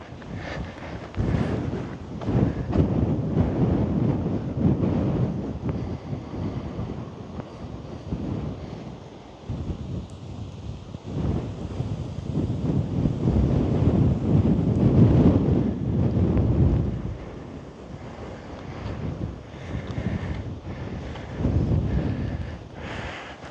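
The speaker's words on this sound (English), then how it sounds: "It's getting windy." Strong gusts of wind on a hillside buffet the microphone in long roaring surges, easing briefly around the middle before blowing hard again.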